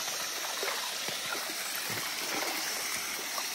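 A cold stream flows beside a muddy jungle road, its soft, steady trickle and gurgle heard faintly and alone.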